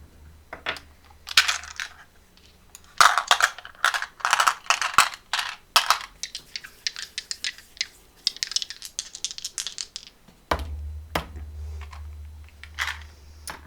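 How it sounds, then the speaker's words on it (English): Two Scooby-Doo dice are shaken and rolled, producing a run of sharp plastic clicks and rattles that come in bursts, close and fairly loud, before a brief pause and a final few clacks. "we're going to roll the 10th set of dice"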